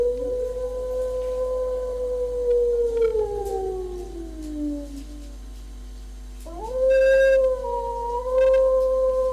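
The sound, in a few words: wolf howling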